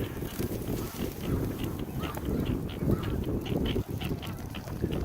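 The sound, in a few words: geese and ducks calling on water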